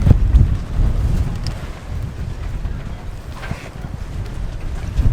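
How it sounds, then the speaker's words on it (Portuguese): Strong, steady 35-knot wind roars and buffets the microphone in a harbor at Garrucha, Spain, with low rumbling gusts and faint water and rocking boat noises underneath, no voices. "Esses ventos de 35 nós, eles são muito fortes."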